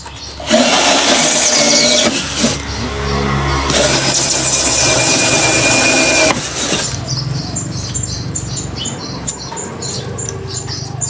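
A power drill bores holes through plastic plant pots used for transplanting lettuce seedlings, giving a loud, steady whirring and grinding with a brief pause midway, heard up close with no talking.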